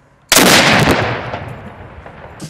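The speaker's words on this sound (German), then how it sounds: "Mit diesem Kanonenschuss wurden die 5. Magdeburger Festungstage unweit der Lukasklause eröffnet." A single cannon shot fired to open a fortress festival in Magdeburg booms out suddenly and loudly, then decays into a long rumbling echo over a couple of seconds, with no voices.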